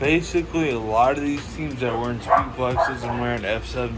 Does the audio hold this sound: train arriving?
no